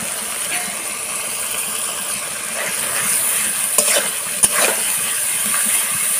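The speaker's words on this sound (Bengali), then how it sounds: "এবার ভালো করে কষে নেব।" Ground spice paste with salt and turmeric being stir-fried in a pan for Bengali chicken curry, a constant close sizzle with a few sharp scrapes and knocks of the spoon against the pan, and no talking.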